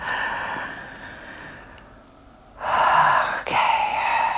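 Deep breathing during a yoga session: a faint, soft exhale fades to near silence, then a strong audible breath rises around the midpoint, briefly breaks, and continues as a loud sustained breath to the end, with no talking.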